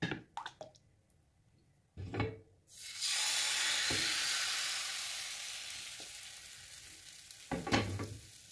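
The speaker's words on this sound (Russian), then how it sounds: "Вот таким образом жарим все блинчики." Thin lacy milk crepes sizzle in a pan with a sudden steady hiss that fades slowly, with pan knocks and clatter before and after it.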